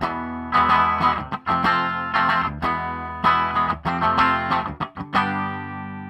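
A Gibson Flying V with a Seymour Duncan distortion pickup plays through an Ibanez TSA15H valve amp set to 5 watts, giving heavily distorted chords in bursts with brief stops between them, loud and close.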